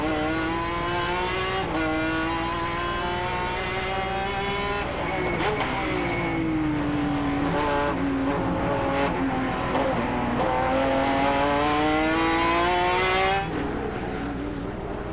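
Onboard a GT race car in the Speed World Challenge GT round at San Juan, Puerto Rico, 2003, accelerating out of a tight turn: a loud, close engine climbs in pitch through the gears, shifts briefly, and keeps roaring without a break.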